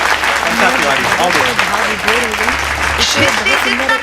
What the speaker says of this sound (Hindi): एक बार जोरदार तालियों से आमंत्रित कीजिए अंकिता तिवारी